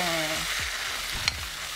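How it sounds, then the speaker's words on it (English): Crisp and fresh okra are stirred into a sizzling pot of okra stew, the frying hiss steady and close with a few quick scraping strokes of the spoon, no voices. "So we're gonna add in our crisp okra. And we're gonna add in some fresh okra because we want a little bit of slime. Just gonna mix this on in there."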